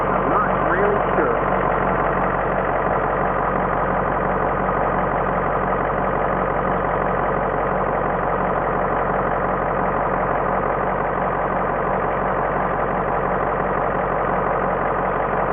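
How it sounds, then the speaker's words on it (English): An engine idles at a steady, even rumble that stays constant and unchanging throughout, close by. "The engine doesn't use any oil or anything, does it, when it runs?"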